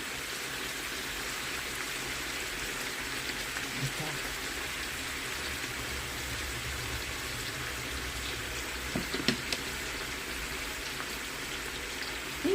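Plain water is poured into a pan of spiced sauce for cooking pork belly, making a soft continuous splashing trickle with a few small clinks.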